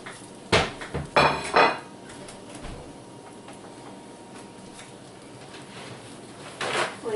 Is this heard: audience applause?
no